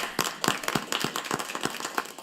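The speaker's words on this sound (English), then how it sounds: "Let's give her a round of applause." A small group at a regular board meeting applauds, with sparse, distinct claps close by at an uneven rhythm, brief and light, with no one talking over it.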